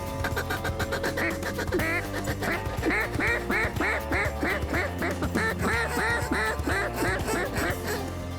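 Mallard ducks quack continuously during a Kansas duck hunt, a dense chorus of repeated calls at steady loudness with honk-like tones mixed in.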